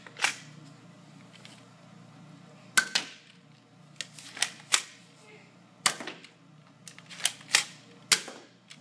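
A toy gun fires nerf bullets in a rapid string of sharp, close snapping pops, about eight shots in uneven bursts, loud against a quiet room with no talk.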